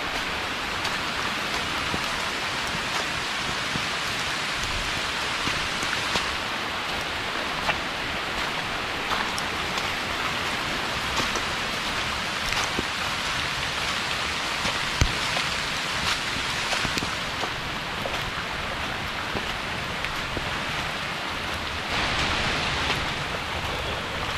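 Steady, dense rainfall hisses continuously in a rainforest, with scattered louder drops and no voices, a constant wash of rain that barely changes in level.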